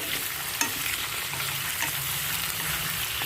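Potatoes and medium onions are stirred in hot frying oil for a Kashmiri dish, giving a steady sizzle with scraping stirs and a sharp clink of the utensil near the start.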